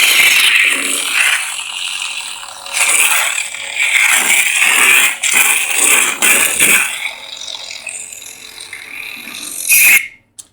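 A Dagan Gera Neopixel lightsaber with a brass chassis and Proffie board powers on, giving a bright sustained electronic ignition hum with ratcheting, mechanical-sounding texture that runs loud for about ten seconds before cutting off abruptly.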